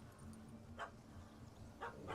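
A dog barks in The Witcher 3, two short muffled barks about a second apart, fairly faint over a steady low game ambience.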